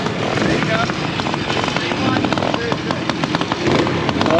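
A motorcycle sidecar outfit works through a trials section at a classic bike show in Stafford, its engine giving a loud, steady, close, rough drone over a busy outdoor background, with a voice talking over it.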